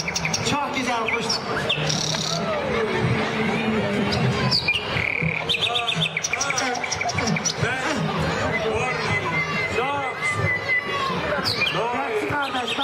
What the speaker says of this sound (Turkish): bak orada kuşlar var bak